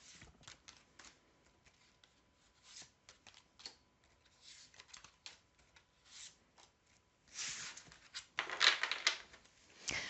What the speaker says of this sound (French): On va tirer 5 cartes.